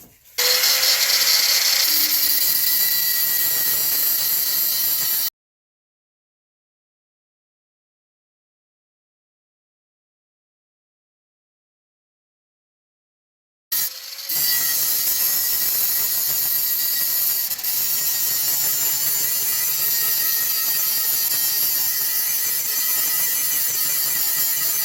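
An electric grinder sharpens a gouged lawnmower blade into a smooth profile, a loud steady high grinding whine that stops for several seconds of silence, then resumes just as harsh.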